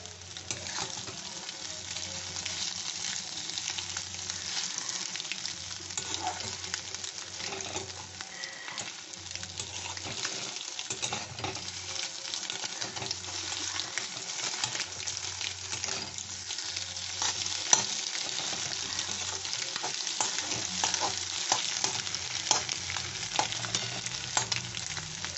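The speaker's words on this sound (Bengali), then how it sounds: "একটু কষতে হবে, এটা একটু বাড়িয়ে দিই।" Egg cutlet mixture sautéed and stirred in a frying pan, giving a steady, close sizzle and fry throughout with soft scraping stir strokes mixed in.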